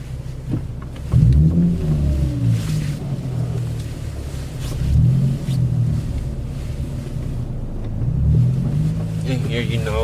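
A Nissan 350Z on a test drive, its engine revving up through the gears in three rising pulls with steady cabin and road noise between them.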